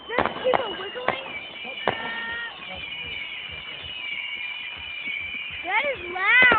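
Fireworks show with loud bangs and crackles at the start, then an ongoing distant rumble of bursts, with people talking and exclaiming over it throughout.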